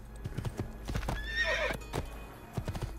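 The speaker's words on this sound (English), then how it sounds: "Don't neigh at me, eat your hay." A horse in the Assassin's Creed II video game gives a loud, drawn-out neigh amid close clip-clopping hoof steps, the whinny rising clearly in the middle of the short burst.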